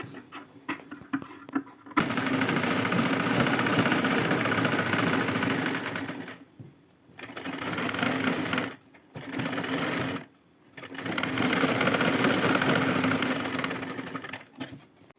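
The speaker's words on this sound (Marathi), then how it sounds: "आता अजून त्याच्या थोडीशी अर्धा इंचावर शिलाई मारून घ्यायची." A sewing machine stitches a blouse in loud, fast mechanical bursts, running for several seconds, pausing briefly, then starting again, close up. A few light clicks come before the first run, and no one speaks over the stitching.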